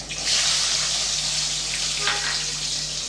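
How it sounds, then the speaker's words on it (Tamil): Small shallots sauté with fenugreek in oil for a fish curry, making a loud, dense, continuous hiss that sounds close up throughout, with no talking. "வெங்காயம் கொஞ்சம் நல்லா வதங்க விட்டுடலாம்"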